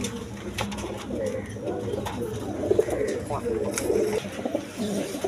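Pair of racer pigeons at a pigeon market, soft cooing throughout under steady background chatter and ambient noise, moderately near.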